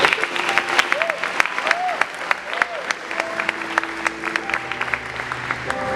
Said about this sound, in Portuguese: Então dá um salve de palmas para o Senhor.